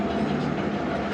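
The Zakariya Express pulls out of Shujabad railway station with a steady, close, low rumble of rolling carriages.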